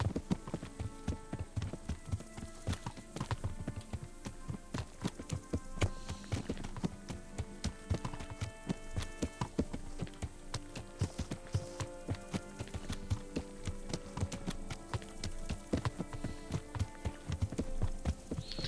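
Horse hooves clip-clop in a rapid, continuous rhythm in the video game Kingdom Come, several animals trotting at a stud farm over a low background hum.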